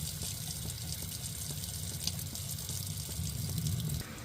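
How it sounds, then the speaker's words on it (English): Hot water running steadily from a tap supplied by a Thermomate 1.3-gallon mini electric water heater, a continuous close splashing rush with no voices. "Let's go and turn it on hot water."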